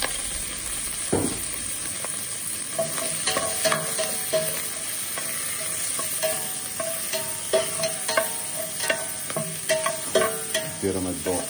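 Leeks sizzling in a pan while being stirred for sautéed duck with sauerkraut, a steady frying hiss broken by repeated scraping and stirring knocks, close and moderately loud.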